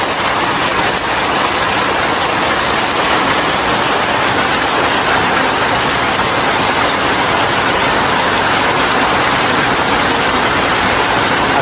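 Steady heavy rain pours down with wind during a rainy day in a Bengali village home, a dense, unbroken hiss of drops on surfaces lasting throughout with no voices.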